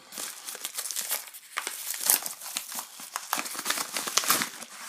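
Crinkling and tearing of plastic packaging as an XP Joy Box adapter is unwrapped, a steady close-up run of crackly rustles and rips with no talking.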